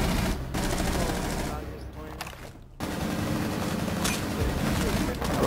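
Rapid, loud bursts of automatic gunfire in a video game, nearly continuous and broken only by a brief lull midway through, then resuming at full intensity.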